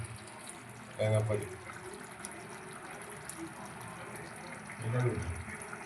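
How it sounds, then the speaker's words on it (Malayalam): Coconut milk is poured into a pot of beef curry cooking on the stove, making two short, soft liquid splashes a few seconds apart against a quiet kitchen background. "തേങ്ങാപ്പാൽ ഒഴിച്ച് നമുക്ക് നല്ലോണം റെഡിയാക്കി എടുക്കാം"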